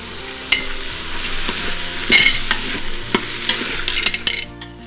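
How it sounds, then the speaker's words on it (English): Washed rice and potatoes are stirred in a hot pan for mutton pulao, giving a close, continuous sizzle broken by repeated scraping clicks of the spoon. "Now I added the rice. I'm going to saute it for a bit after the potatoes"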